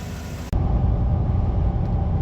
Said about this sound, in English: Excuse the wind noise and the tire noise.